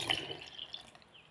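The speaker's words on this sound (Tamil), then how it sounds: "இப்போ இதில் வந்து நல்லா கூலிங்கன்னா 1 டம்ளர் கட்டி பால் ஊற்றிடுவோம்." Chilled thick milk poured from a tumbler into a blender for a banana milkshake, a brief, soft liquid trickle and splash heard up close and quietly.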